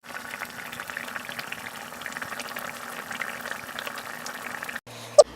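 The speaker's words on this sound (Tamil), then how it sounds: "இப்போ இதை மூடி வச்சு ஒரு 2-3 கொதி வரட்டுங்க." Pottukadalai kurma, a roasted-gram curry, bubbles under a lid in a pot on the stove, giving a soft, steady simmering burble, then a sudden clack at the end.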